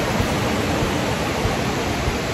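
Ocean waves wash against a rocky island shore, a dense, continuous rushing hiss with no distinct breaks between swells.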